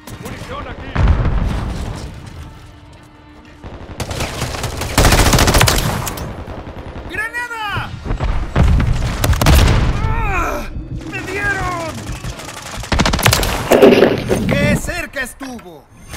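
Call of Duty battle with grenade blasts and bursts of gunfire, loud booms and rattling shots in waves, with shouted voices calling out in between.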